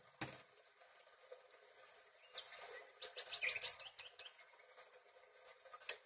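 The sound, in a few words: birds singing by a river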